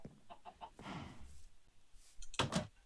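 Chickens clucking on a farm in the game Minecraft, a few short clucks scattered through the clip, soft and mid-distance, with a louder burst near the end.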